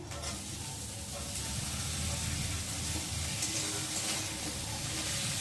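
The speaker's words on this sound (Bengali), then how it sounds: "চলো এখন আলুগুলোকে দিয়ে ভেজে নেবো পেঁয়াজের সাথে" Sliced potatoes and onions frying in a pan, a steady, soft sizzle and crackle of hot oil running throughout without pause, fairly quiet and close.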